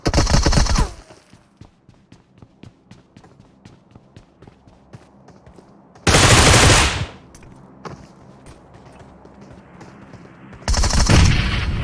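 Gunfire in the PUBG Mobile battle royale game: loud bursts of automatic fire open and close the stretch, a rapid run of quieter clicks and footsteps comes between them, and another heavy burst sits in the middle.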